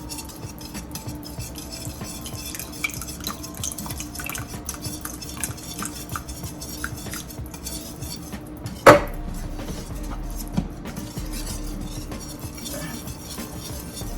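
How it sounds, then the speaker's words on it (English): Cornmeal porridge with evaporated and coconut milk stirred in a pot, a spoon scraping and clinking in steady rhythm with one sharp knock partway through. "with porridge, you have to stir. You have to keep stirring for a while and to avoid the lumps"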